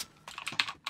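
Computer keyboard keys clatter in a quick, irregular burst of several close, crisp presses during gaming, with no voices over them.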